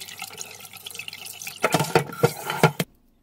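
Boiled butterbur greens being washed and squeezed in water in a kitchen sink, soft sloshing followed by several louder wet splashes and drips, ending abruptly.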